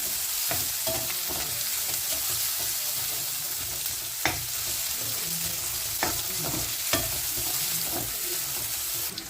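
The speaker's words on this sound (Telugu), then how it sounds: "ఉల్లిపాయలు, పచ్చిమిరపకాయలు బాగా వేయించుకోండి" Onions and green chilies fry in a pan with a steady, close sizzle, broken by sharp scrapes and clacks of a spatula stirring every second or so.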